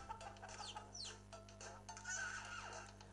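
A chicken in the platform video game Pekka Kana 2 clucks and squawks in short, bright bursts over looping game music and effects, fairly faint and continuous.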